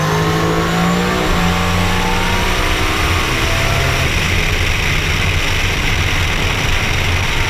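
A Nissan turbo LS-swapped truck accelerates hard on a drag strip pass, the loud engine roaring and rising in pitch close to the microphone, with no one speaking.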